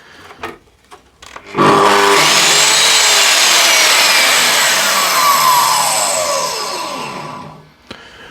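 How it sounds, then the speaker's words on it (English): A Bosch GCM 80SJ sliding mitre saw starts up and runs without a dust extractor, a loud, steady motor whine with a soft ramp-up that sustains for several seconds, then winds down as it slows toward a stop. "turn the saw on without the dust extractor, so you can hear it, how loud or how quiet it is"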